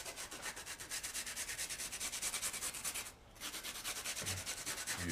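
Sandpaper rubbed briskly over a wargame terrain dirt road made of a goop-and-sand mixture: rapid, even back-and-forth scratching strokes, close and steady, with one short pause partway through.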